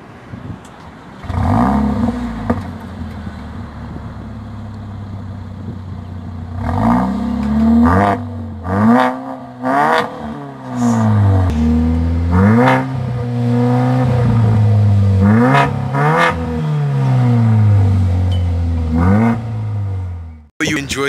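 Mercedes-Benz A45 4matic AMG engine after a cold start, idling with a rough clatter before a series of sharp, loud revs that climb and fall repeatedly, close by.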